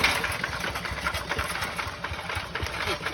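A rice field plough machine's engine runs nearby with a steady, throbbing mid-pitched drone that holds level throughout, with no talking over it.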